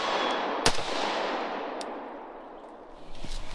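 A rifle shot at an outdoor shooting range, a single sharp crack early on followed by a fainter second report, with quiet room-like ambience between.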